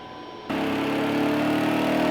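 A Kawasaki KLX 110 motorcycle engine starts up on a dyno, jumping abruptly from near quiet to a steady, buzzy running drone that builds slightly as it holds, close and continuous without talk.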